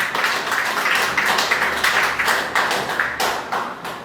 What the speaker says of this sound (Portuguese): Uma salva de palmas, receba,